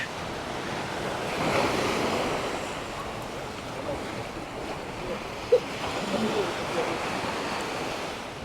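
Surf rolls and washes steadily onto a busy beach at Naklua, northern Pattaya, Thailand, a continuous broad roar with wind buffeting the microphone and one brief sharp knock near the end.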